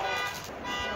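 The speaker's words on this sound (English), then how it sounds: "You just set somebody's alarm off." A car alarm going off at a rifle range during rimfire target practice, a steady loud electronic tone with stacked pulsing harmonics sounding throughout without pause.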